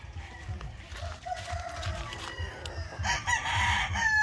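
Gamefowl roosters, including pure black gamefowl, crowing and clucking continuously at a farm, several birds calling close by and overlapping, with a louder burst of crowing toward the end.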